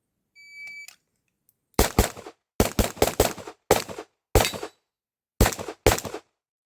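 Handgun shots during IPSC production division training: a shot timer beeps once, then eight sharp, loud shots follow in pairs and singles with brief gaps between them.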